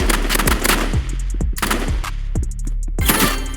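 Gunfire in the Roblox game Rivals comes as loud, rapid bursts of repeated shots, several volleys in quick succession with a punchy low thump on each shot, with no speech over it.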